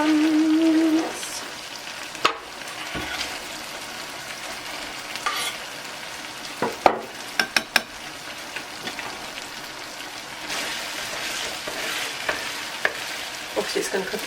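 Onions dropped into a hot pan and frying with a steady close sizzle, a few sharp clinks of a utensil against the pan, no talk.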